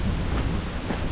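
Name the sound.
cold wind blowing on the Appalachian Trail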